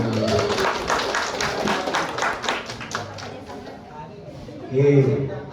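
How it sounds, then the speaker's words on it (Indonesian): A classroom of teachers claps for a colleague, a brisk burst of close hand claps that thins out and fades, followed by a voice speaking near the end. "Tepuk tangan untuk beliau."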